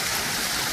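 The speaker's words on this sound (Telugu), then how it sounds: "చూడండి చిన్న చిన్న వాటర్ ఫాల్" A small forest waterfall spills with a steady, dense rush of water, close and continuous throughout with no voices.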